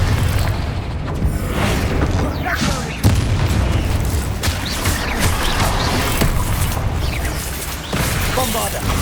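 In Hogwarts Legacy, a Confringo spell blasts with loud, dense booms and bursts that pile up over continuous combat noise. Sharp impacts punctuate the thick, roaring din, and shouting is heard within it.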